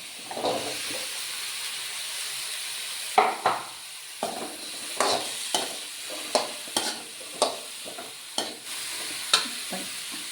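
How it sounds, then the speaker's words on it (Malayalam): Pumpkin thoran is stirred in a pan on the stove, producing about a dozen spaced, scraping strokes over a faint, steady sizzle. "അരപ്പിട്ട് കൊടുത്ത് ഇളക്കി നല്ല യോജിപ്പിച്ച് കൂട്ടിയിട്ട് നമുക്കിനി അത്തങ്ങ ഇട്ട് കൊടുക്കാം"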